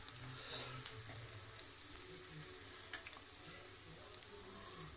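French toast fries in a buttered pan with a steady, soft sizzle and scattered faint crackles and pops. There is no talking.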